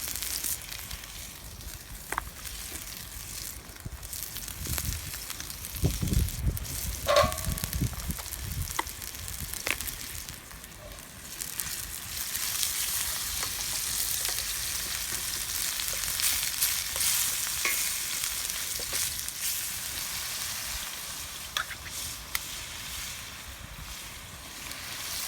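Pork sizzles and crackles in a hot pan over an outdoor wood fire, a continuous frying hiss with occasional pops and clinks of stirring.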